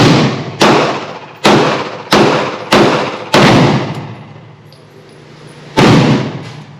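Six loud, sharp gunshots from a Hi-Point G1 pistol-caliber carbine ring out in an uneven string, with five in quick succession, a pause of about two seconds, then one final shot, each followed by a short decaying echo outdoors.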